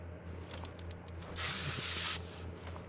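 A steady hiss of penetrating spray loosening a frozen bolt during tire removal in Car Mechanic Simulator 2021, a loud burst of about a second set over a low engine-like hum with faint short hisses before it.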